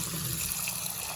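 Water poured from a tap over spiny cactus-type fruit in a bowl, a steady close gushing and splashing that runs without a break and sounds alone.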